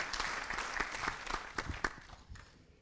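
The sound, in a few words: audience applause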